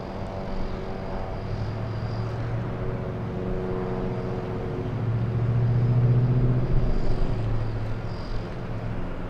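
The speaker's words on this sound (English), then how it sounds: "We have a United Airlines 737 flying in from Chicago." A United Airlines Boeing 737 arriving at LAX rumbles as a steady, distant low drone with a faint engine hum, swelling slightly louder midway before easing again.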